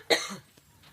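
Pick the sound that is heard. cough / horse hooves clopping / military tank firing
cough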